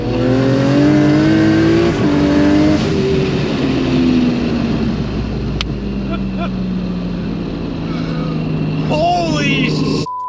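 A 1200HP Barra-engined Mustang accelerates hard, its engine revving loudly and rising through gears with sharp shifts, then settling into a steady roar as people talk over it inside the car.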